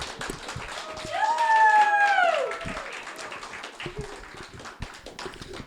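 An audience claps at a music talent competition show: a dense, steady patter of hands runs throughout, while a sliding tonal voice or instrument rises and falls over it in the middle.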